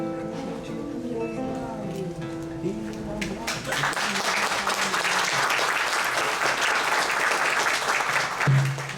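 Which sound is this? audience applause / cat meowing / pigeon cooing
audience applause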